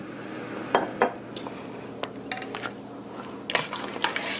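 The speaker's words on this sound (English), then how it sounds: "I'm going to stir that up now." A spoon stirs jambalaya in a metal pot, making a series of close, irregular scrapes and clinks against the pot's sides.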